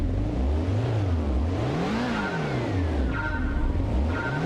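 A car engine in the racing game Gran Turismo 1 revs repeatedly, its pitch sweeping up and down in smooth waves under a constant loud roar, with no talking over it.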